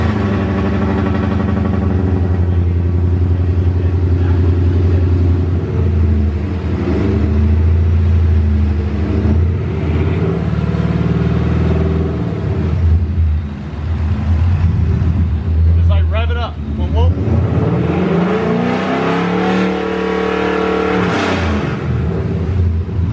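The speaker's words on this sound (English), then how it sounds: "First start up on the new pulley here." Car engine with a newly fitted boost pulley starts and revs hard, a loud, sustained roar rising and falling in pitch through several throttle blips, with voices talking over it.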